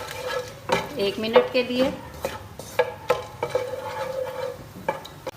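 Whole cloves and black peppercorns roast in a little oil in a pan, giving a soft sizzle with frequent spoon scrapes and clinks against the metal. A voice speaks briefly over the sound.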